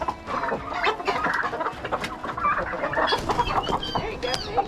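Chickens cluck busily on a farm, a close, continuous chorus of overlapping clucks and squawks with no talking.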